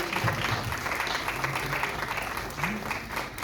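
Applause from an audience at a birthday celebration event, a continuous soft patter of clapping heard at moderate distance, fairly faint and even.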